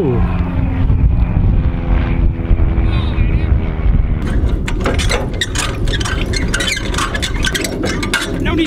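A Delta Airlines airplane passes overhead, a broad, loud roar with wind buffeting the microphone, steady throughout while someone speaks excitedly over it.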